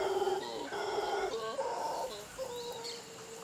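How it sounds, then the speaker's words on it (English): Howler monkeys call out at dawn in a Venezuelan forest, a series of wavering, overlapping cries and hoots rising and falling in rough bursts over a soft, steady forest background. "The forest also comes to life at dawn, and it does so with the cries of the howler monkeys."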